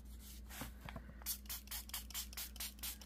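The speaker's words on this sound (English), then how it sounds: "spray water on the very edge" Water spritzed from a spray bottle onto the edges of held-closed paper pages during an Egypt-themed paper craft project, a series of soft, close hissing bursts with light rubbing of paper in between.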